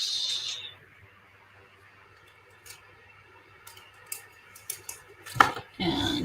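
Scissors trimming paper for a handmade card: a series of quiet snips and taps that grow louder and denser toward the end, after a brief high tone at the start.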